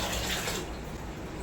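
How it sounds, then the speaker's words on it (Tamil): Water splashes and pours over soaking lentils in a kitchen, a short steady gush that eases after the first half second and continues more softly, with no talk. "பருப்பு மூழ்கிற அளவுக்கு தண்ணி வச்சாச்சு"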